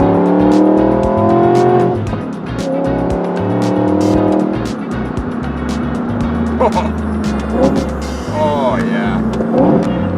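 Self-built supercar driving on an open road, its engine loud and close as it revs, rising and falling through shifts, with a man briefly exclaiming over it.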